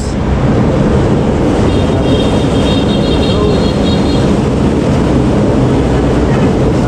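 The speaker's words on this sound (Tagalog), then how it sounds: "Ang lakas ng daan ng train." A loud, steady rumble of a passing LRT light rail train on Lazaro Street, Manila, at night fills the clip, with a faint high whine of wheels partway through.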